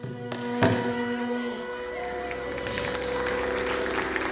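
An audience claps as an award is presented at a Thaipusam festival event in Bahrain, a sustained round of applause building under sustained musical tones, with a sharp knock near the start and a voice faintly present.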